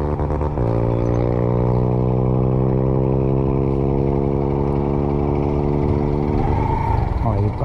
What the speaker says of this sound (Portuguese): Aquele caminhão ali passar.